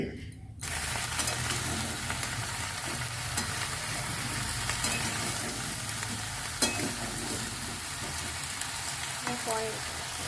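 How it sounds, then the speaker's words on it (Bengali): Continuous loud sizzling of whole cumin, cinnamon and cardamom frying in hot oil, with occasional scraping and clinks of stirring, no voices. "ওটাকে ভেজে দিলাম জিরে আর এই গোটা জিরে আর হচ্ছে ডালচিনি এলাচ একটু ভেজে দিলাম"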